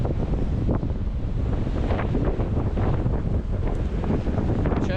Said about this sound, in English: when I step outside this door it's just extreme wind